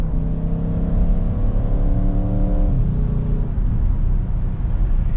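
A 600-horsepower 2020 Audi RS6 Avant estate engine hums steadily with a rising whir, then the pitch drops as it eases off; a deep, sporty drone without voices.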